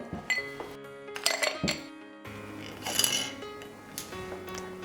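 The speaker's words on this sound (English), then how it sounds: "I'm gonna start by adding ice into a mixing glass." Ice cubes clink and clatter as they are dropped into a mixing glass for a lemon drop martini, several bright glassy knocks close by, with a quieter shuffle of ice toward the end.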